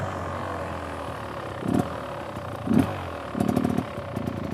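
A motorcycle rolling slowly through a course of cones while its engine idles low, then revs up in three short bursts, the last one longer, close to the microphone, with no talk.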